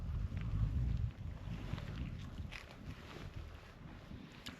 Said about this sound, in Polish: Wiatr się trochę uspokoił